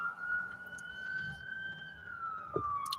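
A distant emergency vehicle siren holds a long, steady wailing tone that drifts slowly in pitch over faint outdoor background noise.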